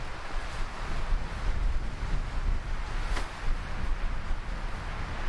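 Strong wind buffeting the microphone in a constant loud roar with gusty surges, no voices present.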